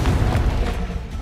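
A Confringo fire spell exploding in the Hogwarts Legacy video game, a loud close burst of deep rumbling booms that fades into a brief crackling tail.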